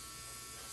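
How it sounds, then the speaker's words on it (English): Dremel rotary tool grinding a dog's nails, a brief steady high buzzing whine, close and continuous, with nothing else heard. "I do some of the dremeling on his nails"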